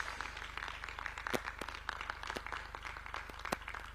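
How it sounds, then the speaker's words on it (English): Scattered, fairly faint clapping from an audience at a State House awards event in Nairobi. A few sharp individual claps stand out over a steady low hum. "A round of applause."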